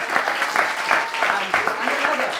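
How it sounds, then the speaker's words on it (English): An audience at a smoker event applauding a volunteer called up on stage, with loud, close clapping in uneven bursts and a voice talking over it. "round of applause for this man"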